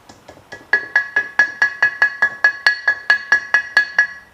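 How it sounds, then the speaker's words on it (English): Steady metallic hammer strikes in a garage, about fourteen evenly spaced ringing blows with a bright clink as a seal is hammered onto a Mustang part, close and loud, no talking. "Gotta hammer the seal on."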